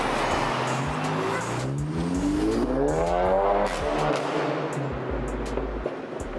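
A car engine revs and passes with a rising and falling pitch sweep over steady road rumble, loud and close, then fades.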